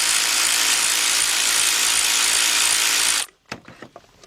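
Ratchet with a shallow 10mm 3/8-inch drive socket on an extension loosening a bolt on a Ford Focus or Transit Connect power steering pump, a loud, steady, dense whirring ratchet run for about three seconds, then a few separate clicks and clunks.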